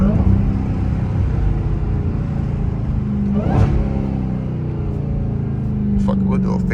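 Dodge Charger Hellcat Redeye V8 with a mid muffler delete, a steady deep engine rumble that swells into a brief rev near the middle, continuous and fairly loud under a voice talking throughout.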